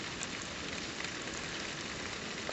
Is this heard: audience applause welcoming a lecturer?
no